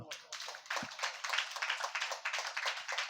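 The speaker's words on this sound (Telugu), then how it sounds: "చప్పట్లు కొడదాం" A church congregation at a Sunday service clapping their hands together, a brisk, continuous patter of many hands at moderate volume lasting a few seconds.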